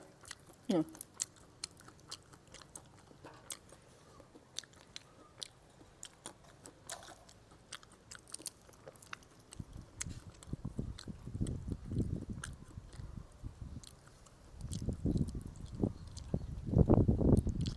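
Roasted kabok nuts being chewed and bitten, quiet clicks and mouth sounds at first, then louder, denser crunching bursts in the second half, close to the ear.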